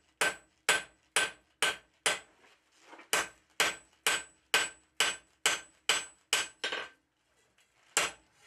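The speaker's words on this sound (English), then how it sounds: "Here I'm using an anvil block to hammer a beveled surface on the top face of the handle." A blacksmith hammers the handle of a toasting fork on an anvil block, beveling its top face with sharp, ringing metallic strikes in quick steady runs of about sixteen blows, each loud and close, with short pauses between groups.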